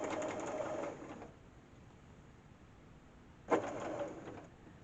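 A domestic sewing machine stitches the binding onto a quilt made from a single fabric, running in two short fast whirring bursts separated by a quiet pause, close and fairly soft.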